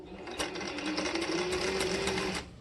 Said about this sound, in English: you're going to do this by chain stitching these together, and we will cut them apart after we have them all sewn on